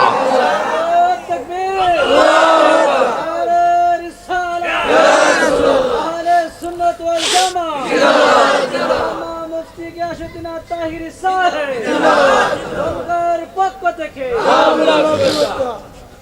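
A rally crowd chanting slogans in loud, rhythmic bursts, many voices shouting together in repeated waves with short gaps between them, close and dominant throughout.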